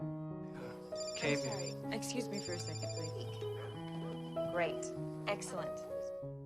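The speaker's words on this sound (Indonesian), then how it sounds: "Beth tiba-tiba aja mendapat telepon dari seorang pelanggan." A telephone rings with a repeating electronic melody of sustained tones, layered over music and occasional sound effects.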